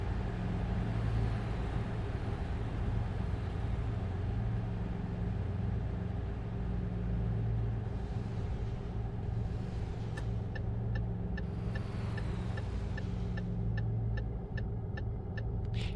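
A Tesla Semi electric truck in American Truck Simulator runs at full throttle with a steady low rumble of road and drive noise, alone and unbroken. Evenly spaced faint high ticks appear near the end.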